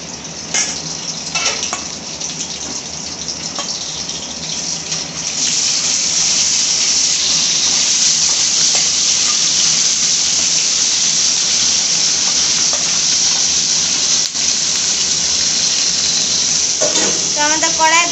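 Whole spices for a Bengali tempering fry in hot oil, then potato, pointed gourd and ridge gourd go into the kadai for a steady, loud sizzle that swells midway and carries on continuously, with a few scraping stirs near the end.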